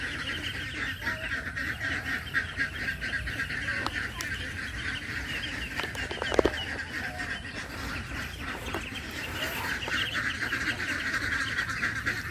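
Small ducklings, young ducks kept as pets, give a steady chorus of soft quacking and peeping that runs through the whole stretch at moderate level, with a brief louder bump partway through and no talk.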